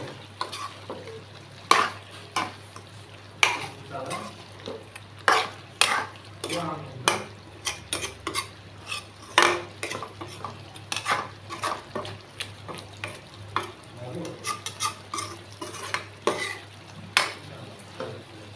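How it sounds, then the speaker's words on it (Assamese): Meat curry being stirred in a pan, a series of irregular scraping and clanking strokes of a utensil against metal over a soft simmering sizzle, near and moderately quiet. "অকণমান লৰাই দিম।"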